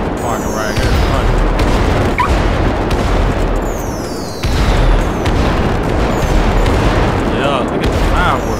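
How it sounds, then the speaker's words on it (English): In GTA 5, fireworks burst and crackle through a dense, continuous wash of booming noise, loud and busy throughout. "Yeah, look at the fireworks."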